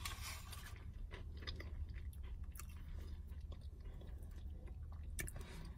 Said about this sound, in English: let me just bite a piece